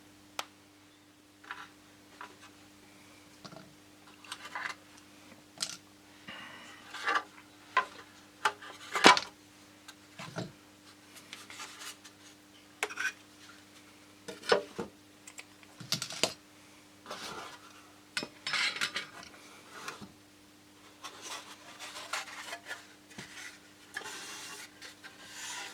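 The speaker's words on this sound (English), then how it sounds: "Now this has all dried and hardened, and we can remove all the clamps." Clamps being taken off a dried, glued model aircraft fuselage: scattered light clicks, taps and rubbing handling noises at close range over a steady low hum, with no talking.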